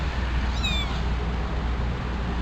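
A single short cat meow, rising then falling, over a steady low background hum and room noise.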